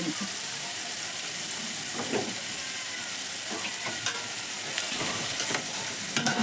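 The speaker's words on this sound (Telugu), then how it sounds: "ఉల్లిపాయలు అయితే ఇలాగా బ్రౌన్ కలర్లో వచ్చేలాగా అయితే ఆగనియాలి వేగింది కదా" Sliced onions sizzle and fry in a pan as the base for a chicken curry, a continuous close hiss broken by occasional stirring scrapes, with no talk over it.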